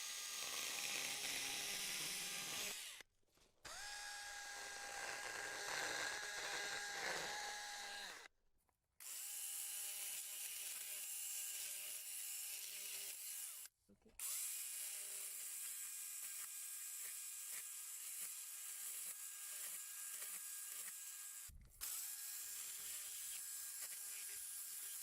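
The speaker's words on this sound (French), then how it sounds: "on va utiliser cette partie-là du guide de la tronçonneuse, et ensuite, une fois qu'on verra l'amadou, on ira gratter avec le nez du guide" Chainsaw guide bar nose scraping tinder fungus out of a tree cavity, a steady high buzzing saw note broken by four short pauses, fairly faint and alone.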